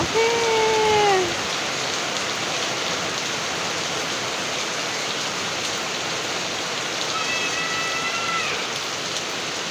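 Steady rain after a long heatwave falls in an even hiss, with brief chirping birdcalls near the start and again later.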